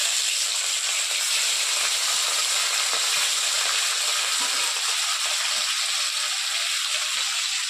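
Pieces of catla fish from a two-kilogram fish fry in a pan of oil with a steady, loud, close sizzling hiss that holds even throughout.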